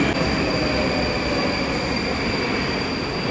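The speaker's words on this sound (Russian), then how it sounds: "Вот они, эти великолепные поезда." A Moscow metro train on the Big Circle Line runs steadily and loudly nearby, a constant rumble with a high whine and faint wheel squeal, no voices.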